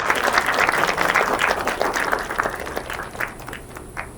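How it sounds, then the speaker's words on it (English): Audience applause from a crowd at a pre-departure gathering, a full burst of many hands clapping that gradually thins and fades toward the end. "And that deserves a round of applause."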